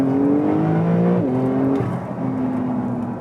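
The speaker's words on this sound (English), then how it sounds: "it sounds like the traditional flat six Porsche engine, just with a little bit of turbo whistle and spool" A Porsche 911 Carrera 4S engine rumbles and revs with shifting tones, a faint turbo whistle riding over the low flat-six growl, fairly close and steady.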